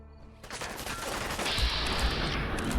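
Rapid automatic gunfire rattles continuously through a Fallout 4 gunfight with gunners, close and loud, starting after a brief quiet lead-in, with a faint voice underneath.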